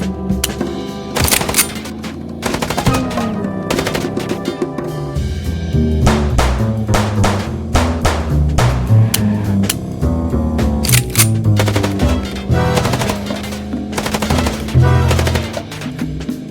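Gunfire in the Chicken Police video game, loud rapid bursts of sharp shots and clattering impacts in dense repeated volleys over a low rumbling background, with no voice.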